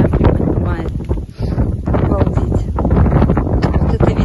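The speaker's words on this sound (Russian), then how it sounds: "вот видите, сейчас тоже ветер дует, прям не поднимает" A strong outdoor wind roars and buffets the microphone in continuous loud gusts, with someone speaking Russian underneath.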